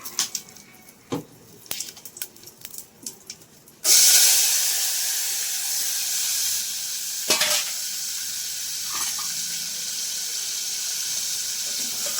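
Cumin and tomato-vegetable curry hit hot oil in a pan, bursting into a loud, sustained sizzle after a few seconds of quieter clatter, with a brief flare of hissing midway.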